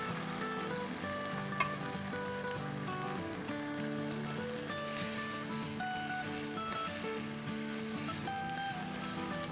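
Minced mutton sizzling and frying in tomato masala for matar keema, a steady dense crackle with stirring throughout, no talk.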